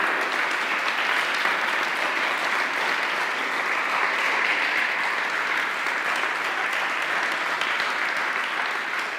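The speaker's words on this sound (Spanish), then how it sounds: "Dale un fuerte aplauso al Rey." Sustained applause from a church congregation for the King during a sermon, dense steady clapping from many hands that holds evenly for several seconds.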